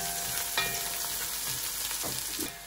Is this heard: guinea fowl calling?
no